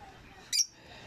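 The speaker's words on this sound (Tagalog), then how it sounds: "Ayan po mga ibon ko, yung iba nasa kulungan po." A single short, sharp chirp from an African lovebird, kept as a pet among caged birds, rings out briefly over quiet room noise.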